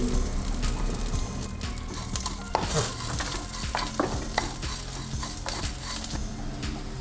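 Coriander seeds, Kashmiri chilli and tamarind are roasted in a pan, stirred with steady scraping and rattling over a continuous dry sizzle, a busy rhythm of close utensil strokes.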